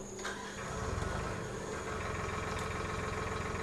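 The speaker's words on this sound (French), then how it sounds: "on va reprendre le tracteur rouge avec le semeur qui est là" A red tractor pulling a seeder in the Farming Simulator 2013 video game runs at a steady idle. It gives off a continuous, dense mechanical drone and vibration with no talk over it.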